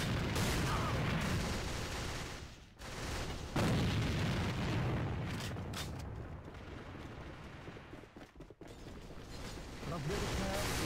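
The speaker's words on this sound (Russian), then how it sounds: "Бросаю гранату!" A grenade blast in a video game, a loud broad burst amid continuous dense in-game combat noise with rumbling and sharp bangs, with a voice calling out in the mix.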